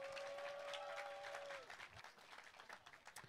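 Audience applause at a Desak Anies public forum, a broad wash of clapping and crowd noise that starts loud and thins out slightly toward the end, with a brief sustained tone fading out partway through.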